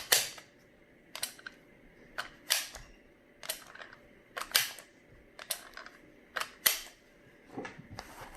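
Sharp metallic clicks and clacks from a CZ Shadow 2 pistol, repeated at irregular intervals close up as its magazine is popped out and handled, quiet between the snaps.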